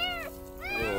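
A cat meows twice in quick succession, close and clear, with rising and falling drawn-out cries and no talking.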